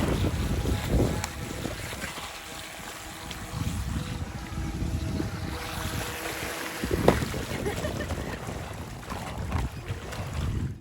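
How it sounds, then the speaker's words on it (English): Altair AA102 AA Aqua radio control boat running across open water, a steady broadband wash of hull and spray noise with gusts of wind buffeting the microphone and a brief sharp splash midway. "This is a really fun radio control boat."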